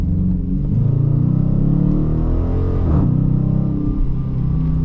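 A Dodge Challenger RT accelerates on rolling hill roads, its engine a loud, steady rumble throughout, building slightly in pitch with a brief surge near the middle, with no voices.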